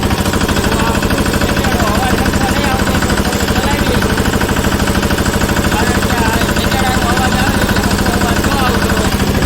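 A farm tractor engine runs steadily while ploughing a field, a loud, continuous rapid chugging rhythm that stays close and unbroken throughout.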